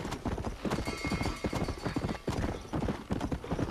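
Horse hooves clip-clop in the game Red Dead Redemption, a steady close rhythm of dense hoofbeats that carries on throughout, with a faint whinny-like tone in the mix.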